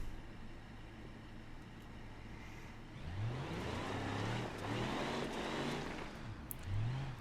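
Off-road D-Series truck engine in The Long Crawl, idling low at first, then revving hard in repeated rising and falling surges, loud and close, no talk.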